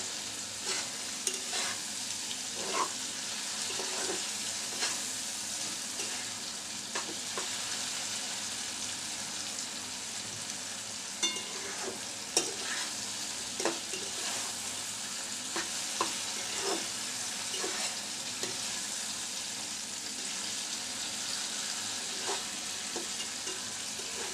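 Eggs scrambling with tomatoes in a pan for Bengali dimer jhuri, a continuous close frying sizzle with repeated spatula scrapes and taps as the mixture is stirred throughout.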